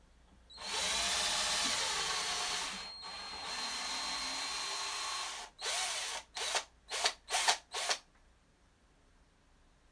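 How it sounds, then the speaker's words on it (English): A power drill bores into a soft basswood kit guitar body: one long steady whine, a shorter run, then a string of quick bursts, close and alone. "So drilling inside the basswood is very, very easy."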